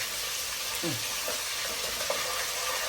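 Tomatoes sizzling as they fry in a pan on a low gas flame, a continuous hissing sizzle at moderate level with faint brief voice fragments in the background.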